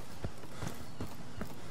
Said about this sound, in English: I hear footsteps. Hopefully those are friendly.